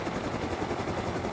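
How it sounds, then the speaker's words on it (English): A helicopter in the video game Rust flies overhead, a steady, even rotor drone that is moderately loud and continuous throughout, with no voices over it. "There's a heli up there!"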